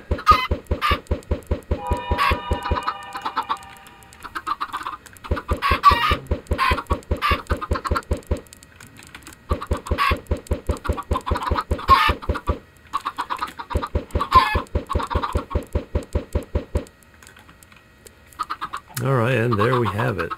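Minecraft chickens in a farm coop cluck in repeated rhythmic bursts, one run after another with short gaps, loud and close, ending on a different lower bird call.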